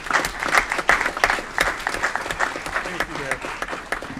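A crowd claps in lively applause at a city council meeting, individual claps audible, with a voice briefly talking over it.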